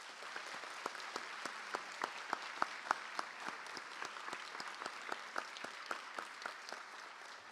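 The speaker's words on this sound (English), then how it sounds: "We'll give these football players a round of applause" Steady audience applause at a school board meeting honoring football players, many hands clapping evenly at a moderate distance with a few sharper individual claps standing out.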